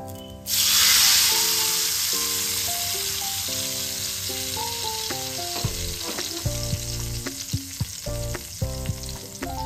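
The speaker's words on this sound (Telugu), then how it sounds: "ఇప్పుడు ఈ తాలింపు మొత్తం దీనిలో వేసేసుకుందాం" Hot peanut oil tempering with lentils, mustard seeds, cumin and hing pours into a dish and erupts in a loud hiss. The sizzling then settles into steady frying with small crackles and pops, close by and without talk.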